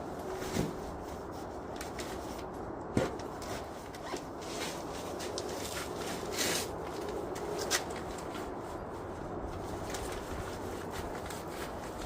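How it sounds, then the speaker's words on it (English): A zipper on the carry bag of an ice fishing tent gets pulled in a few short, quiet rasps against soft background noise. "You got 2 zippers on this bag, guys, one at either side, so makes it a little easier."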